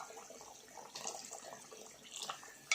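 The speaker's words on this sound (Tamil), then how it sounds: "நம்ம கொஞ்சம் தண்ணி சேர்த்துக்கலாம்." Water pours into a fish curry in a light, splashing trickle for a few seconds, quiet and close, with a small clink at the end.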